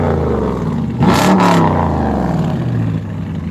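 A car fitted with mid mufflers and Flowmaster 44 series mufflers revs hard once, a loud close roar that rises sharply and then settles back to a deep rumbling idle.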